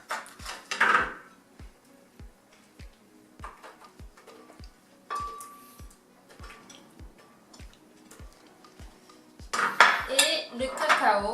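Dates tipped into a bowl while making almond-cacao energy balls, with clinks and scrapes of a spoon against the dish over a steady ticking pulse, and a louder burst of clattering near the end; no one speaks.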